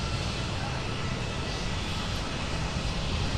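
A United Airlines Airbus A319 airliner taxis past at an airport, a steady, broad engine rumble and roar holding at constant loudness throughout, fairly near.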